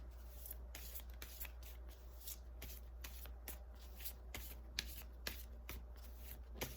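A deck of angel tarot cards is shuffled by hand, giving quick, papery riffles and soft slaps in an irregular rhythm, with a few sharper card snaps near the end. It is close, faint and continuous, with no talking.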